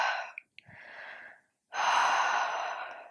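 Breath is drawn in and let out during a yoga squat pose, Malasana: a few close, audible inhales and exhales, one short and two longer, with a brief pause between, and no talk.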